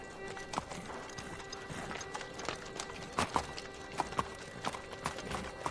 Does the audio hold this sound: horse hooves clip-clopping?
yes